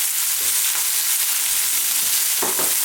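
Thin slices sizzle steadily in a hot pan while preparing eggs Benedict, a close, continuous crackle with a couple of brief stirring scrapes near the end.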